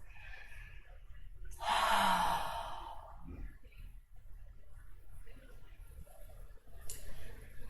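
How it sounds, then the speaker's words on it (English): A slow, breathy exhale during a yoga session swells for about a second, then fades into quiet room tone with only faint soft breaths and small movements afterward. "Nice little inhales and exhales."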